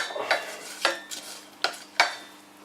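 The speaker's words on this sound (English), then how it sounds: "Give it a good stir." A spoon stirs cod in tomato sauce with a bay leaf in a cooking pot, giving four or five distinct scraping clinks against the pot at an uneven pace over a faint background hum, with no talking.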